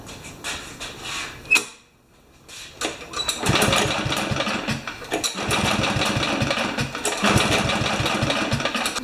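A Kohler engine on a Craftsman lawn mower cranks repeatedly without firing, giving rapid chugging turnover in several bursts with a short pause between them, close up and fairly loud.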